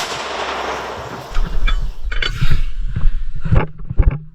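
A deep, booming blast from a mortar firing at a front-line position, followed by lower thuds and rumbling echoes in an open outdoor space.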